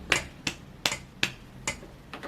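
Rhythmic hand claps counting a beat in a simple music lesson, six sharp, separate claps at a steady moderate tempo, close and dry with no talking.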